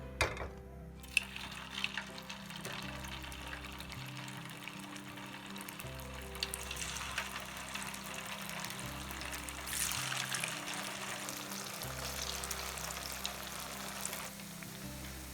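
Batter-coated cauliflower deep frying in oil for gobi manchurian, a soft, steady bubbling hiss heard close but faint, running alone for the whole stretch.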